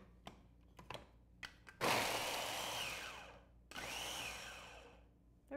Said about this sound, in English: especially with a good food processor